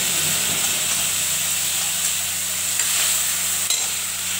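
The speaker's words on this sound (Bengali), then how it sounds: "এবার মশলাটা দিয়ে দিচ্ছি। এখানে আদা বাটা, লঙ্কা বাটা, জিরা বাটা।" Ginger, chili and cumin paste fries in a pan with bay leaf and black cumin, giving a steady, close sizzle and hiss with faint stirring scrapes throughout, no voices.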